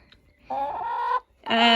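A hen clucks twice up close, a drawn-out throaty cluck followed after a short pause by another, with no talking.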